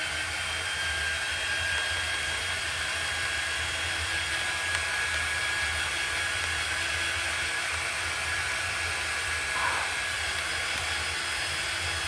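A heat dryer blows a steady, continuous whooshing hum at close range while drying fresh chalk paint on a wooden frame, holding at an even level throughout.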